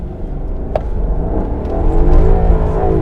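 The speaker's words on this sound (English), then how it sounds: "But I love this V8. It's got power right off the bat." A Ferrari V8 engine rumbles low and steadily climbs in pitch as it accelerates, loud and close, with no talking.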